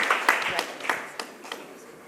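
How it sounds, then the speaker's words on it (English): Scattered handclaps welcome a speaker at the opening of an energy conference. The clapping is sparse and uneven and fades out over two seconds. "Let's welcome him with a big round of applause"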